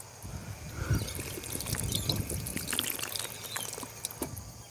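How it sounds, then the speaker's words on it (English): Water being gulped from a bottle and spilled, with wet trickling, splashing and dribbling close by in uneven bursts, alongside a few small knocks and handling noises. "You don't want to watch me drink water."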